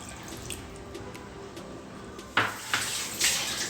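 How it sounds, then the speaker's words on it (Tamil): Leftover boiled cooking water poured into a pot of black quail curry, a soft trickle building into a louder splashing pour partway through, close up with no talking. "இந்த வேக வச்ச தண்ணியும் ஊற்றிக்கலாம்."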